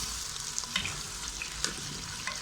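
Chicken sizzles and fries steadily in a pot for a turnip-and-meat curry, a dense continuous hiss with occasional small pops and a stir or two, close and alone with no talking.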